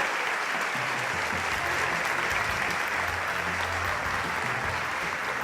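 Audience applause at a 2023 short story competition award ceremony as an honoree and her teacher come forward, steady, loud, even clapping from a crowd throughout, with low rumbling beneath.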